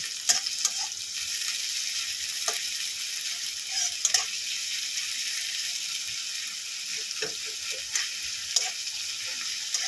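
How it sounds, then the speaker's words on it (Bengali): Two medium-sized onions fry lightly in a pan, producing a gentle, even sizzle with occasional soft ticks and pops close by. "পেঁয়াজটা কিন্তু বেশি লাল করে ভাজবো না হালকা একটু ভেজে নেব"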